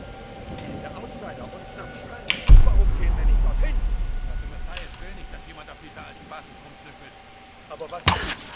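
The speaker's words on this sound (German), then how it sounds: "Das waren zwei präzise Schüsse." Two gunshots in the video game Tomb Raider: a loud sharp blast with a rumbling decay, then a second crisp shot several seconds later, over low game ambience.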